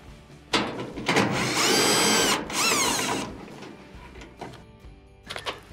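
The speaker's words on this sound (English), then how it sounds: "remove the 2 1/4-inch screws at the bottom" Power drill backing out the 1/4-inch screws along the bottom of a Whirlpool dryer's front top panel: two sustained whirring bursts with rising and falling pitch, framed by brief clicks and handling knocks, close and fairly loud, no talk.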